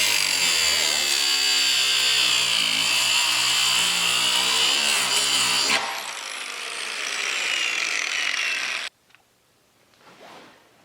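An angle grinder cutting through a rivet on a boat rub rail, a loud, high metallic whine with grinding rasp that drops in pitch under load, then spins down and stops, leaving faint handling noises.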